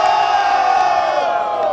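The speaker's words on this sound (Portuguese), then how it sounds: "Barulho pras rimas do LK" A crowd at a Brazilian rap battle roars and shouts together in a loud, sustained wall of cheering that holds steady, then eases off slightly.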